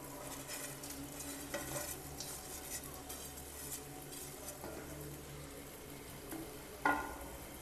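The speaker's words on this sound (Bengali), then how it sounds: "মাছটা দিয়ে নেড়ে নেব।" Pre-fried fish being stirred into puffed-rice ghonto in a pan over a low flame, a quiet low sizzle with scattered spatula scrapes and one sharper clink near the end.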